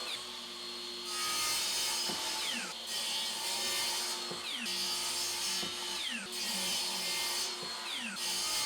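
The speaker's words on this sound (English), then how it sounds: "I set up a stop block on the miter saw and cut the top of leg angles" A miter saw cuts the tops of wooden table legs, its blade whining through the wood in several loud, close passes separated by brief pauses, with no voices.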